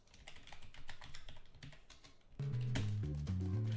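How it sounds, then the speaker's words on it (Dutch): Fingers tap rapidly on a computer keyboard during Minecraft parkour play, a quick close clatter of keystrokes that stays fairly soft, then continues under loud music that cuts in midway. "waarschijnlijk hoort je mij zo de hele tijd zo op mijn toetsenbord zo bezig"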